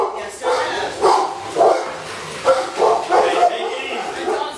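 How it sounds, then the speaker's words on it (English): Several dogs bark and yip in excited bursts in a home kitchen during Super Bowl snack preparation, close and fairly loud, mixed with people talking. "My dogs are going nuts."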